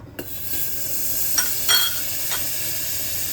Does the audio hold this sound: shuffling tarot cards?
no